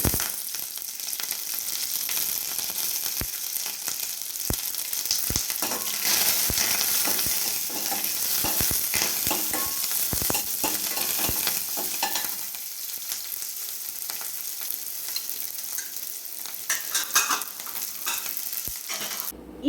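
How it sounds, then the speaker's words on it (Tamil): Dried red chillies and small shallots sizzle and crackle steadily in hot oil for a Tamil-style tempering, loud and close, with occasional stirring taps and no talk. "ஒரு 2 வரமிளகாய், அப்புறம் வந்து சின்ன வெங்காயம் கொஞ்சம் கட் பண்ணி வச்சு தாளிச்சிக்கலாம்"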